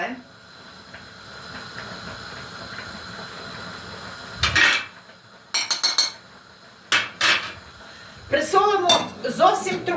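Onion and spices being stirred in a cooking pot for stewed nutria meat, with a low hiss beneath several loud bursts of metal utensil clanks and scrapes against the pot, later mixed with a voice speaking.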